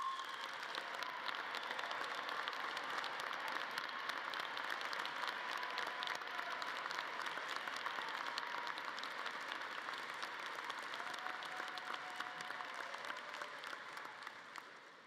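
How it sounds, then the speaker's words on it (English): Large university commencement audience applauding military veterans, a sustained wash of clapping from many people in a big hall that holds steady for a long stretch, then begins to fade at the end. "Please join me in one final round of applause for those who have already served this great nation"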